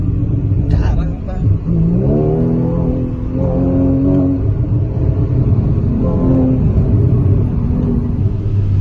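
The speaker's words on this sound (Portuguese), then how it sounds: "Vou dar uma rasgada aqui com o Porsche para vocês sentirem o motor do bichão" A Porsche sports car engine revs and accelerates hard in a sustained loud roar, with rising and falling harmonic sweeps as it pulls through gears, up close throughout while an excited voice exclaims over it.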